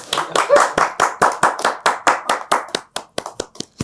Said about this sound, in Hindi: तालियां बजाओ सारे लोग यार।